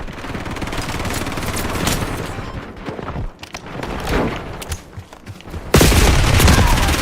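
Dense gunfire in a Call of Duty-style video game, bursts of automatic fire and heavy booms filling the mix, with a loud sustained volley near the end; faint voices are buried underneath.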